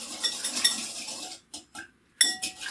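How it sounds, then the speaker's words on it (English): A soy sauce, sugar and garlic marinade for bulgogi whisked in a bowl, giving a brief run of close metallic clinks and scrapes that stop, then one more short burst. "Just gotta whisk that together."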